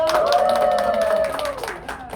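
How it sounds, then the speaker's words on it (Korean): Audience applause after a business seminar mixes scattered clapping with a prominent voice that carries over it, and the sound gradually fades toward the end. "다시 한번 우리 스포츠님께 큰 박수 부탁드립니다"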